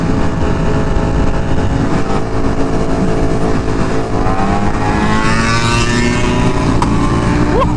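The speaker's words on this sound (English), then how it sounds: "That shift though, that bike popped loud." Loud Ducati motorcycle engines at an outdoor Ducati meet, a steady roar with rising revs and a gear shift near the end, sustained close and dense throughout with no talk.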